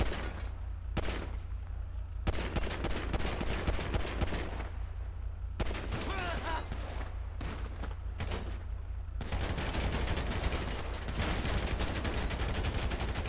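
Rapid bursts of in-game gunfire from GTA 5, dense volleys of shots that stop and start in clusters, loud and continuous with brief gaps between barrages.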